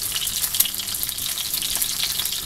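Eggs frying sunny-side up in very hot lard, a steady close crackle and sizzle with small pops throughout and no voices.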